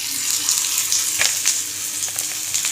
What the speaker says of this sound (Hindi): की आँच पे मैं फ्राई कर रही हूँ, बहुत ज़बरदस्त हमारे फ्राई होंगी